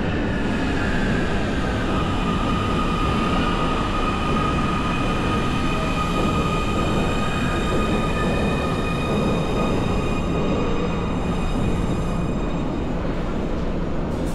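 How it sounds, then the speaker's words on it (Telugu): An underground train in Germany pulls in from its tunnel with a loud, sustained rumble and high, whining tonal hums that hold steady throughout, with no voices. "ఈ విధంగా ట్రైన్స్ అయితే అండర్ గ్రౌండ్ టన్నెల్ నుండి వస్తాయి"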